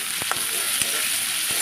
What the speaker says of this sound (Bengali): পেঁয়াজটা এবার ভাজা হয়েছে